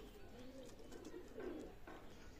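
A pair of running-pair pigeons coo softly in a steady stream of low, throaty calls, with a few chirps, faint and close by in a quiet room.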